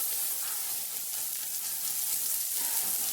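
Corn kernels freshly cut off the cob sizzle in a hot, seasoned non-stick pan, a steady bright crackling hiss that holds at an even level throughout, with no voices.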